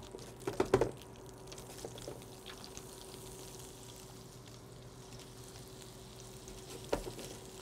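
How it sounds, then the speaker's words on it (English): Mushrooms sauté in olive oil and butter with a soft, steady sizzle, broken by a few clattering stirs and utensil knocks near the start and again toward the end, no talking. "I'm gonna add a little more olive oil so I can saute my mushrooms"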